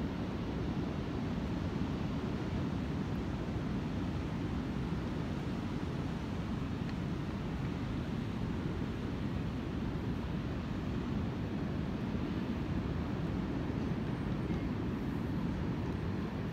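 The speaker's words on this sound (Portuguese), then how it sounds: "Dá para ouvir bem o som do mar, né?" Ocean surf breaks at Praia Grande beach as a continuous, full roar of washing water, steady and fairly loud throughout with no pauses and no voices.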